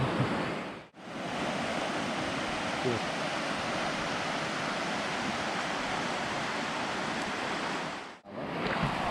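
The Ghopte Khola river in Dhankuta, Nepal rushes steadily nearby, a loud continuous roar of flowing water with no voices over it.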